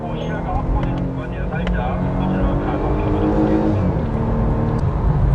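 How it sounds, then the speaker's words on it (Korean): A Volvo S60 engine revs high in sport mode, a steady, raspy cabin drone heard from inside the car while someone talks over it throughout. "좀 카랑카랑한 엔진 소리가 올라오죠."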